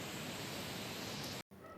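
Wind buffets the microphone on the mountain road to Gangotri in the Himalayas. A steady, faint rushing roar fills the brief moment, then cuts out abruptly.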